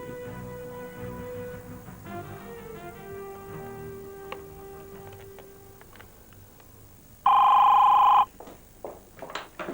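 A telephone call is placed and a single loud electronic ring tone sounds for about a second near the end, following a quieter stretch of soft background music.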